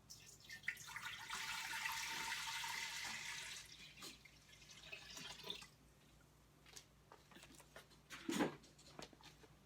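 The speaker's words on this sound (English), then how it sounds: "I hear the water behind me." Water runs from a kitchen tap while canning jars are filled, a steady broadband rush for the first few seconds that fades, followed by scattered drips, clinks and small handling noises nearby.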